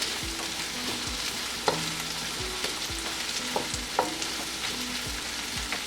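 Garlic paste spiced with green chili fries in a pan with a continuous close sizzle, while a utensil knocks and scrapes against the pan at scattered moments.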